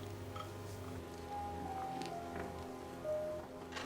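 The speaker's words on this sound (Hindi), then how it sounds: "बाहर बारिश हो रही है" Rain falls steadily outside, a continuous soft hiss with a faint tonal hum beneath it, and no one speaks over it.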